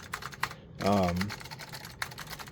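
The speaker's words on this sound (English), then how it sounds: "this has the Alps keyboard in it" Keys clatter on the Alps keyboard of a dirty Apple IIc computer, with rapid, close typing clicks throughout and a voice speaking briefly in the middle.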